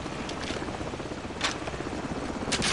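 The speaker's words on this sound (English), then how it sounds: "Hold on, the helicopter's back." A helicopter in Call of Duty 4: Modern Warfare flies nearby, a steady whirring rotor drone with faint rhythmic swells, alone without talk.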